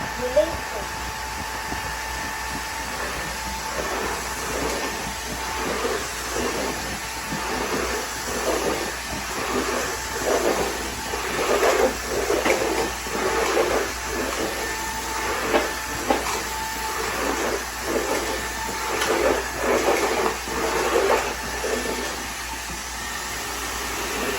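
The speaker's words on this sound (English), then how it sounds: "Steam is ready. You can start to see the steam coming out." eufy Mach V1 Ultra cordless steam mop releasing steam on a floor: a continuous hiss with a rhythmic pulsing, puffing pattern repeating over about twenty seconds, close up and fairly loud, with a low motor hum underneath.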